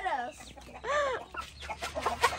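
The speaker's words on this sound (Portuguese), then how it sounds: "Olha o galo do pescoço pelado." A naked neck rooster and hens cluck and call in a farmyard while pecking at corn. Short, close, pitched calls come in a few bursts, with light voices around them.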